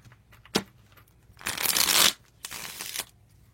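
Tarot cards being shuffled: a short snap, then two rustling riffle bursts, crisp and close, with no talking.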